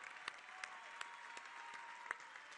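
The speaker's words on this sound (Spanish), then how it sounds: "un aplauso grande." A crowd at an election victory speech applauds, a faint, distant wash of steady clapping with a few sharper claps standing out.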